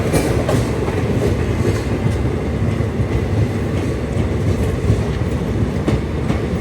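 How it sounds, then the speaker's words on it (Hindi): An Indian Railways intercity express hauled by a WAP5 electric locomotive runs past close by, with loud steady rumble and rhythmic clickety-clack of wheels over rail joints. "वैप 5 इंजन है ये, WAP5। ये सबसे फास्टेस्ट इंजन है इंडियन रेलवेज़ की।"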